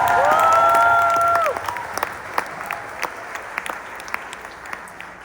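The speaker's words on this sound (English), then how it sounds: "So let's clap for that." An audience at a Sundance Film Festival Q&A applauds loudly for about a second and a half, with a few voices whooping over it, then the clapping thins into scattered, fading claps.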